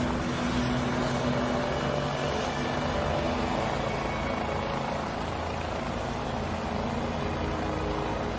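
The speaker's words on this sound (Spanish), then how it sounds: "Estamos llevando a Bergland al helicóptero." A helicopter's steady rotor roar fills the whole stretch, loud and close, with a constant droning hum and no voices.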